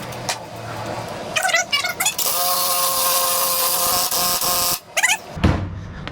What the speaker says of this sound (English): I'll run the bolts in tight.